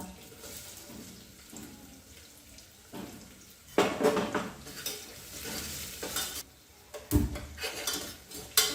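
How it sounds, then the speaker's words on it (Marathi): Onion sautéing in a pan for a spicy mutton curry, a steady sizzle with spatula scrapes and clinks, louder bursts of stirring near the middle and end. "कांदा हलकासा आपण गुलाबी रंगावरती परतून घेऊया"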